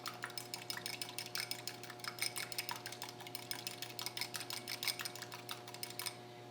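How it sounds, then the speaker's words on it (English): A tiny whisk beats an egg white for Swedish dream cookies, making rapid, light, rhythmic clicks against a small bowl. The clicking is quiet and close, runs in quick bursts for several seconds, and stops at the end. "I have this tiny little whisk, and I'm going to whisk that up"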